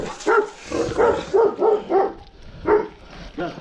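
Several dogs scuffling and barking at close range, with a run of sharp yelps and growling barks in irregular bursts over rough ambient noise.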